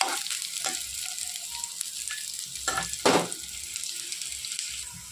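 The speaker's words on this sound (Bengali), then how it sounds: "পেঁয়াজ আর রসুন দেখো লাল লাল করে ভেজে নিচ্ছি" Chopped onion and garlic fry in a pan with a soft, steady sizzle, broken by a few clinks and scrapes of stirring and one sharper burst near the end.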